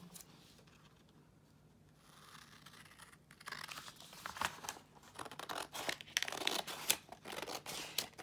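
Paper cut along a ruler for a nature journal folio: a quiet stretch followed by crisp, close scissor snips and crinkly rustles that grow louder and more frequent toward the end.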